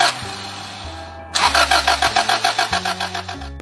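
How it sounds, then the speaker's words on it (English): A car engine with a leaking fuel injector is cranked by its starter, giving a steady, rapid pulsing chug of about a dozen beats. It sounds loud and close, with no talk. "the engine cranks and cranks,"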